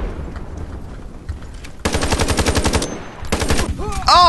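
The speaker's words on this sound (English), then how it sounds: "someone's shooting it" Rapid automatic gunfire from the online shooter Ironsight rattles in two close, loud bursts after quieter background shots, ending with a sharp ricochet-like whine.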